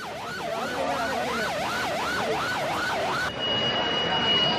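Ambulance siren wailing at a fire scene at a shopping centre, a loud rising and falling rhythmic wail repeating about every half second, then cutting to steadier street noise with a faint tone.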